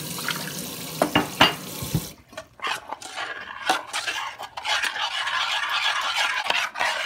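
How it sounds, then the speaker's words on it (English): Running tap water poured into a pot of cornmeal porridge to loosen it, a splashing, gurgling flow with faint clinks of utensils and dishes nearby, fairly close and steady with no talk. "I'm gonna add some more water to loosen it up a little bit."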